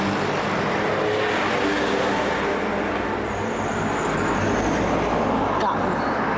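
Car traffic moves along a narrow street in Japan with a steady wash of passing vehicles from close by and a brief sharp knock near the end, while someone speaks over the road noise.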